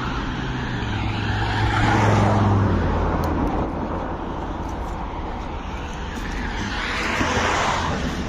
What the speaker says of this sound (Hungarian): Nem nagyon tudok beszélni, annyi autó jön. Most ment egy BMW, jön egy másik.